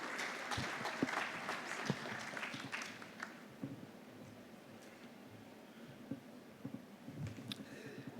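An audience at the DUM 2025 conference inauguration claps loudly for a few seconds, then the applause thins to scattered, fading claps.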